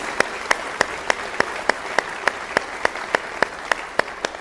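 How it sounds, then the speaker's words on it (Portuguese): In a church, a congregation claps in steady unison rhythm, sharp, evenly spaced beats about three per second riding over a softer bed of crowd applause and murmur. "Você pode dar um aplauso ao Senhor?"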